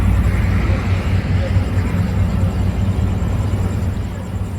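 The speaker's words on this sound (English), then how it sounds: "I know there's a lot of car noise" Steady roadway traffic rumbles at a Phoenix street scene, a constant loud low wash of passing cars filling the background throughout with no pauses.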